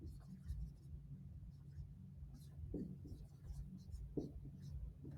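Pen or marker writing by hand during a calculus lesson, soft scratchy strokes near and faint over a low hum, with a few brief tapping touches.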